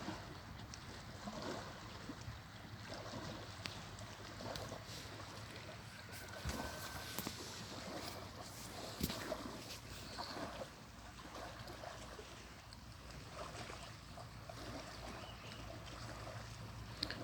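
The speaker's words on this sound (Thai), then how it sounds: "เสียงคลื่นมันสาดมันซัดอะพี่น้อง" Waves splash and slap steadily against a lakeshore at Traunkirchen while strong wind gusts across the water and buffets the microphone, a continuous loud wash with no boats or voices.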